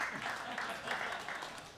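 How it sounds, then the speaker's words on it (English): Brief, fairly faint applause from an audience at a lecture on religion, scattered clapping lasting under two seconds with voices mixed in. "clap for her."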